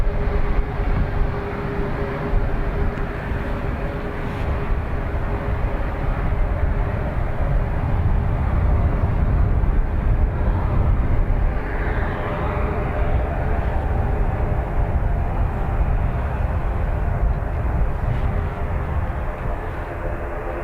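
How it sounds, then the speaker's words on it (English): An ATR turboprop approaches Dublin Airport, producing a sustained rumbling drone with steady humming propeller tones that builds slightly toward the middle and then holds at a moderate level. "ATR on the way."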